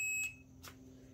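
Multimeter continuity beep while checking for a short on an HO model railroad Walthers double crossover: a single short, high electronic tone cuts off quickly, followed by a faint click in a quiet room.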